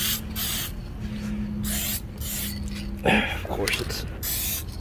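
Short hissing bursts of rattle-can spray paint go onto the body of a 1985 C4 Corvette, close and repeated in quick passes, with someone speaking briefly partway through.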